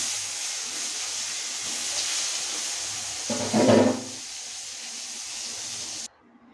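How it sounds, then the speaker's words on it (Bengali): Eggplant (brinjal) slices fry in oil in a pan with a steady, soft hiss, swelling into a brief louder sizzle partway through before stopping abruptly. "এখানে বেগুন ভেজে নিচ্ছি।"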